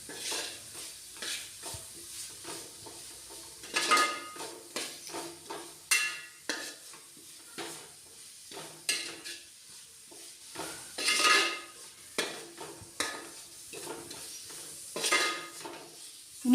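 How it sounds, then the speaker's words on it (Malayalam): A spoon stirs garlic-paste masala in a frying pan, scraping and clinking in repeated strokes over a low, constant sizzle, close and fairly quiet. "പച്ചമണം മാറുന്നത് വരെ നല്ലോണം ഒന്ന് ഇളക്കി കൊടുക്കാം"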